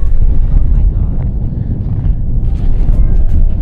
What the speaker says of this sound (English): It's a little windy, eh?